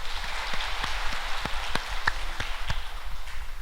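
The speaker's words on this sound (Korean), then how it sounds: "박수로 영광 돌리겠습니다" A church congregation claps together after a report on a seaside trip, with brisk, dense applause filling the room for a few seconds and no talk.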